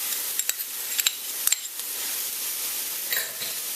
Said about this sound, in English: Stir that all in there.